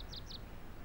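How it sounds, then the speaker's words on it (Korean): Two quick bird chirps ring out early in a dawn sound effect for a Korean audio drama, light and fairly faint, followed by quiet ambience with no talking. "깨어나 보니 새들이 지저귀는 소리가 들리며 이미 동이 터오고 있었다."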